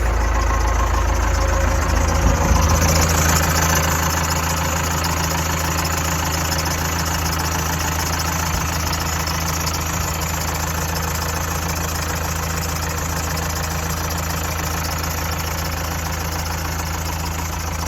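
A bread truck engine idles after being put back together, a loud, continuous low rumble with a steady knock and a brief surge near the start, heard up close without talk.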